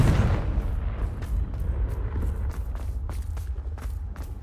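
A Confringo spell explosion in the Hogwarts Legacy video game, a heavy boom at the start that rumbles away, followed by a string of sharp crackling pops and debris hits, fairly loud with no talking.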